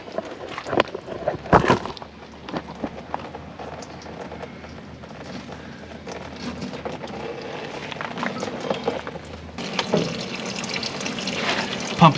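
Acetone mixture draining from a stuck supercharged two-stroke Detroit Diesel engine in a John Deere 440, a continuous splashing liquid flow with clanks and handling noises, growing louder near the end.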